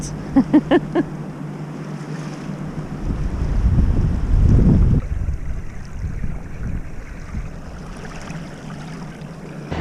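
A widebeam canal boat's engine drones loudly at full revs in fast-moving river water near a lock, under strong wind buffeting the microphone, with water rushing around the hull.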